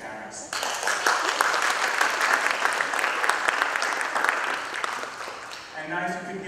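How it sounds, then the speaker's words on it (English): Audience giving a warm round of applause for grade 5 students after their performances at a summit keynote, loud dense clapping from a large crowd that starts abruptly, holds for about five seconds, then fades as a voice begins. "give a warm round of applause for the grade 5 students and their beautiful performances"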